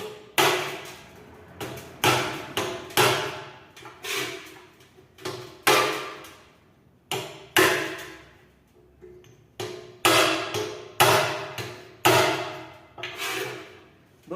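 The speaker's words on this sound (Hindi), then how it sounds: "किसी हथौड़ी और शाफ्ट की सहायता से हम इसको अंदर की तरफ कर देंगे" A hammer and metal shaft drive a motor into a ceiling fan body: repeated loud, close metallic blows in an uneven rhythm, each ringing briefly before the next, about a dozen strikes with no talking.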